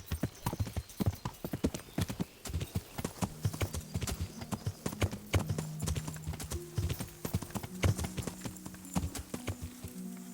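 Horse hooves clip-clop steadily in the medieval video game Kingdom Come: Deliverance, a brisk, even stream of hoofbeats lasting throughout, with soft tonal sounds underneath.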